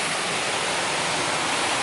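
Waterfall on Siquijor Island in the Philippines, a loud, steady, close rush of falling water with no break or talk over it.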